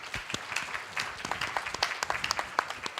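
Audience applause at a youth leaders summit ceremony, a fairly quiet round of clapping from a moderate crowd with distinct individual claps over three seconds.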